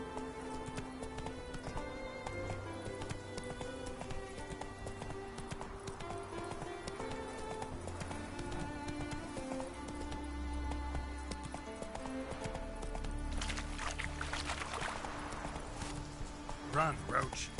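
Roach, a horse in The Witcher 3, gallops with steady clip-clop hoofbeats running through most of the stretch, set against game music and ambience, with a louder burst of hooves and noise near the end.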